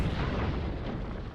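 A grenade explosion in a tunnel fills the moment with a dense, rumbling roar that holds steady and then trails off slightly, loud and enclosed with no voices.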